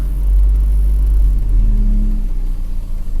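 A Volvo 245 engine pulls away in first gear with a loud, steady low rumble that rises slightly as it accelerates, heard close with no talk.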